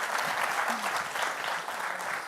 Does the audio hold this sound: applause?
yes